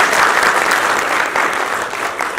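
A crowd at a Republican Party of India event applauds loudly and steadily for a short stretch, with dense, continuous clapping.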